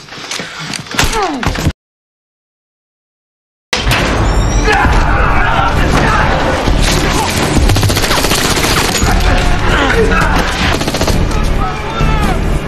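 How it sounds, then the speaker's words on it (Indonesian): Rapid bursts of video game gunfire rattle loudly and continuously after a short silence, with thumps and clatter mixed in. "Mendengar suara tembakan"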